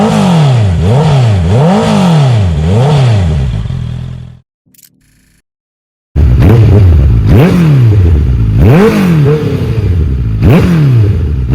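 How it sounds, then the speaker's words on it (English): Honda CBR650R and QJMotor SRK 800RR motorcycle engines revving, loud repeated rising and falling revs in a steady cycle, a brief silent gap, then another run of the same rhythmic revving. "They also make a similar sound, which isn't too surprising given how closely related the engine layouts are."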